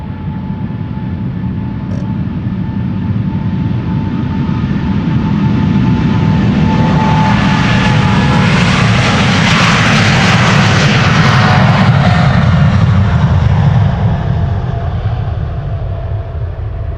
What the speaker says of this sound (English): ready to go to Quito, is KLM Flight 751. It's 777-200 the PH BQB